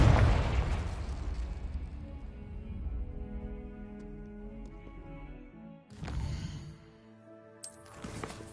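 A Confringo spell blast from the game Hogwarts Legacy bursts loudly at the start, its rumbling tail fading over several seconds before fainter crackles and impacts follow, with no talking.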